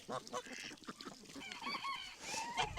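Geese on a small backyard flock honk repeatedly in loud, overlapping calls, with harsh nasal bursts coming close together throughout and no talking.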